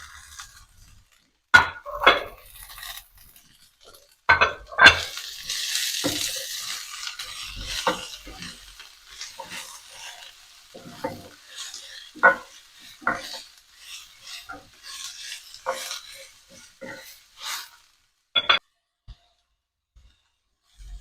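Peppers and garlic frying in a pan while being stirred, with a steady soft sizzle under irregular scrapes and clatters of the utensil against the pan, loudest in a few sharp knocks.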